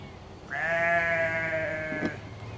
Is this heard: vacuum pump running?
no